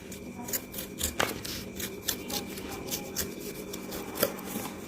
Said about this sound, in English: take the knife and try to cut it like this